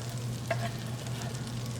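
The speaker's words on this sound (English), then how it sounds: "we're going to melt about 3 or 4 tablespoons of butter" Butter melts in a pan for a Cajun crawfish étouffée, giving a steady, even sizzle close up with one faint clink partway through.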